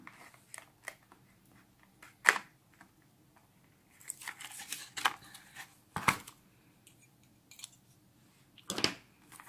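Sharp crinkling and tearing of gift-wrap paper in several separate bursts as a package is opened, close and crisp, with quiet rustling between them.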